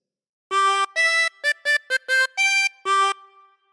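A chromatic harmonica plays a phrase of We Wish You a Merry Christmas as eight short, bright, reedy notes in a lilting rhythm, close and clear with no other sound.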